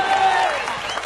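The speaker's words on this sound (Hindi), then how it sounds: "ठोको ताली।" A crowd clapping at a political rally, with dense continuous applause and some crowd noise throughout, loud and close, fading slightly toward the end.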